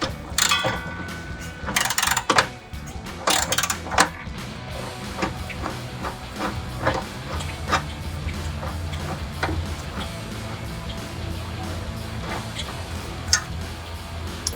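A ratchet with a 15mm deep socket removing bolts during a suspension install on a 2005-2010 Mustang GT, giving rapid metallic clicking in bursts, loud and close, continuing as repeated ticks.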